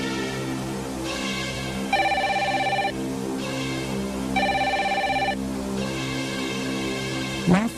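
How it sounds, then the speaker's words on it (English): A telephone bell rings twice in clear, loud bursts, each a trilling electronic ring lasting about a second, separated by a short pause, with steady background noise throughout and a brief thump at the end. "The telephone rang twice."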